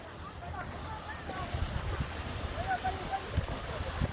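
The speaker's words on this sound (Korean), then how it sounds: "오늘 바람 많이 불지?" Strong wind gusting on Jeju Island beside the sea, a continuous low rumbling buffet on the microphone with waves and faint voices in the background.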